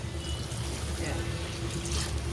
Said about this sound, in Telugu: ఇప్పుడు మనం ఒక చిన్న చెంబు నీళ్ళు పోసుకున్నాం